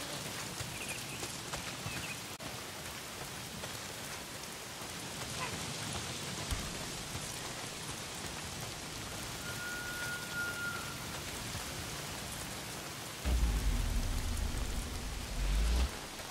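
Steady rain falling in the Days Gone video game, a continuous hiss of drops on surfaces that lasts throughout, with a few heavier low rumbles near the end.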